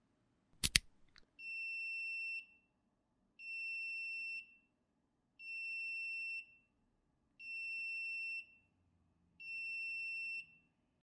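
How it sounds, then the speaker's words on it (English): An electronic buzzer on a Raspberry Pi sounds in five evenly spaced, steady high-pitched tones, each about a second long with short silences between, after a brief clatter. "the buzzer will stay on"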